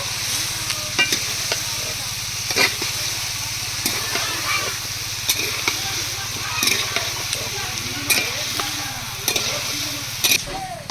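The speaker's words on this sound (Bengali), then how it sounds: "পটল আলু দিয়ে পাঁচ ছ মিনিট কষিয়ে নেব" Pointed gourd and potatoes are stir-fried in a pan, with a steady sizzle and a spatula clicking and scraping over the metal at irregular intervals, close and moderately loud.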